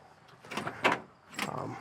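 The door of a 1966 Chevrolet Chevelle is opened with a quiet latch click and a soft mechanical creak. A couple of brief, faint clunks follow, and there is no talking.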